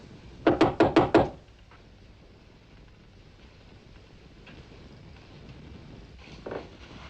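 Five quick, loud knocks rap on a door near the start, followed by quiet room tone and faint rustling, in a 1955 adventure film scene.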